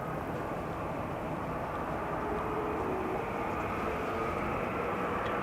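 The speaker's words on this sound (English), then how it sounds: "Time for Air Europa up next. 7879 Dreamliner to Madrid." An Air Europa Boeing 787-9 Dreamliner departing Amsterdam Schiphol for Madrid gives off a continuous broad jet roar, loud and steady throughout, with no voices.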